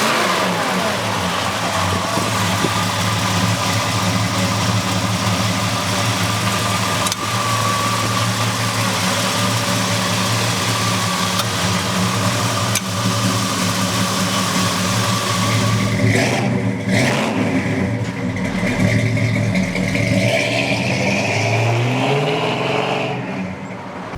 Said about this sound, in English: let's take this bad 57 half-ton pickup truck for a ride